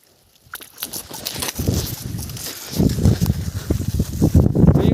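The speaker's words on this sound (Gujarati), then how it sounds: "ઓહ યસ થઈ ગયા એક વાર ફુવારા ચાલુ." Water sprinklers start up in a groundnut field, going from near silence into a rising, gusty spray with rapid pattering bursts of water that grow louder and denser toward the end.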